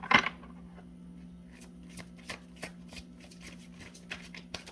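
A deck of oracle cards is shuffled by hand: one loud riffle at the start, then soft, irregular flicks and taps, close and quiet.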